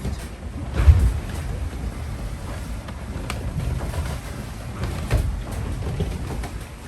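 Wind blows across a sailboat out in the mid Pacific Ocean, a low, gusty rumble buffeting the microphone and swelling and easing with a few faint knocks.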